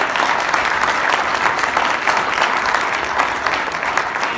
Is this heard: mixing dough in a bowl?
no